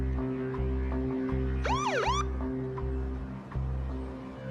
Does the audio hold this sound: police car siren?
yes